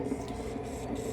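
An antique General Electric ornamental ivy-leaf and oak-leaf ceiling fan runs with a dry bearing, giving a steady, close mechanical whir and hum that holds even throughout.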